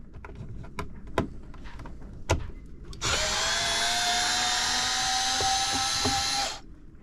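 Power tool whirring steadily for about three and a half seconds while removing a solar charge controller aboard a Catalina 30 sailboat, preceded by scattered knocks and clicks, fairly close and loud.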